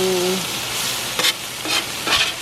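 Onions fry in a pan over an outdoor campfire in the Great Smoky Mountains, giving a loud, close sizzle with a few scraping strokes of stirring and no voices.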